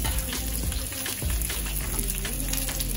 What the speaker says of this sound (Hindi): ये पूरा डिश हाई फ्लेम पे ही बनेगा और मैं सारे वेजेज एक साथ ही डाल दूंगी